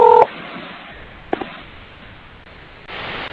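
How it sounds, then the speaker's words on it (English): Telephone keypad tones from a phone being dialed during a call, one clear dual-tone beep at the start followed by faint static and background hiss, with a brief click midway and rising noise at the end. "I'm calling you, Namy."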